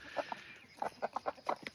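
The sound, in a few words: chicken clucking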